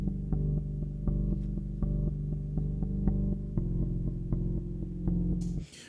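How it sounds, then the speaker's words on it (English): Biome, a pulsing synth patch from UVI Cinematic Shades, throbs in a steady rhythmic pattern of repeated tonal pulses with a sustained low bed, shifting chord partway through and cutting off abruptly near the end. "This patch is called Biome from Cinematic Shades"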